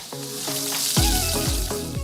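Tuna is tipped into hot sambal and sizzles loudly and steadily in the pan. Stirring scrapes and clinks sound close over the frying, with no voices.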